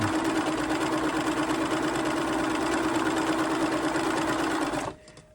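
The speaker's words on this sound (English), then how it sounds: "Let the machine do the actual stitching and the pulling." A sewing machine stitches fabric in a stitch-and-flip quilting technique, running at a steady fast buzzing hum close up and alone for nearly five seconds, then stopping abruptly.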